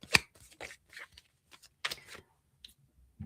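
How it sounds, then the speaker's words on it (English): A tarot card deck is shuffled by hand in irregular bursts of crisp riffles and taps, close and fairly quiet with short pauses between. "Just shuffling my deck here,"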